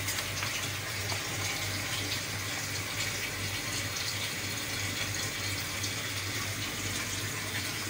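Steady running water splashing continuously, like a tap or pouring stream, with a low hum underneath and no voices.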